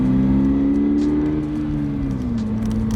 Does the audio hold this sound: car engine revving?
yes